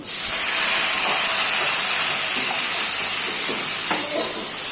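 Water poured into a hot pan during the cooking of mola fish with bitter gourd bursts into a loud, sustained steam hiss that holds steady before easing slightly at the end, with no voices.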